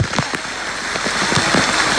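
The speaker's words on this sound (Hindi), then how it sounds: "बारिश हो रही है" Steady rain falls outdoors at a water park, a dense hiss with scattered louder drops pattering on a nearby surface, close and continuous with no voices.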